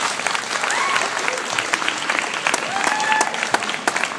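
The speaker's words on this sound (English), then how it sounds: "I think it's only fair that we give Kaitlyn that same round of applause and make her feel warm" Wedding guests give the maid of honor Kaitlyn a round of applause, with loud, dense clapping close by and a few sharp individual claps and whoops or cheers rising above it.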